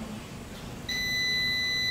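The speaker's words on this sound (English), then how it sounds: "the timer tells me that my time is done" A darkroom enlarger's exposure timer sounds a steady electronic beep that starts partway through and continues against a faint room hum.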